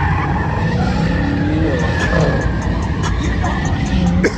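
At a Dallas car meet, a car's tire screeches loudly and continuously during a smoky burnout, with engine roar underneath.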